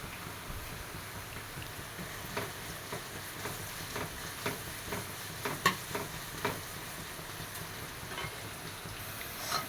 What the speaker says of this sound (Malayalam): എന്നിട്ട് സവാള ഇട്ട് കൊടുത്തിട്ടുണ്ട് ഇതൊന്ന് ഇളക്കി കൊടുക്കാം